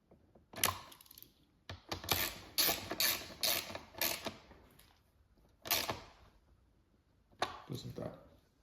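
Bolts being snugged up on the integrated taillight tucked mount of a 2021+ Aprilia RS 660 sportbike, giving bursts of close metallic ratcheting and clicking with short pauses between them.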